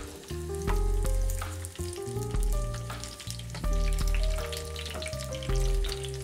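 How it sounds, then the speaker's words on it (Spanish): Chili pepper, onion and garlic sauté in oil in a frying pan, giving a steady crackling sizzle with occasional stirring under soft background music, close and moderately loud. "vamos a proceder a hacer el salteado del ají, la cebolla"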